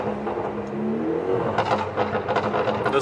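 An Alfa Romeo Giulia engine revs steadily around 2500 RPM, a loud, close, continuous mechanical roar with a rising, rougher edge toward the end.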